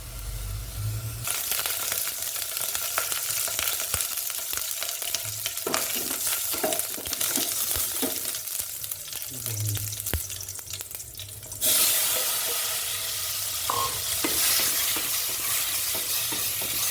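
Cooking oil heats in a pan before chicken with tomatoes is cooked, giving a steady close hiss and sizzle with occasional clatter and stirring, a brief low hum, and a louder hissing surge late on.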